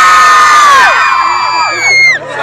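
A loud fan crowd at a celebrity appearance in Amsterdam screams and cheers together, high-pitched voices surging then trailing off near the end.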